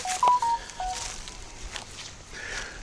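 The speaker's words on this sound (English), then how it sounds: "You're going to hear my phone beep a lot" A phone gives a few short electronic beeps near the start, a clear clipped beep followed by a softer one, over gusty outdoor wind noise at an RV campground.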